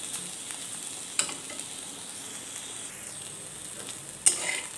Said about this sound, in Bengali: আর এখানে উচ্ছে ভাজাটাও প্রায় হয়ে এসেছে, যেহেতু একটু কড়া ভাজবো সেই জন্য আর একটু ভাজবো।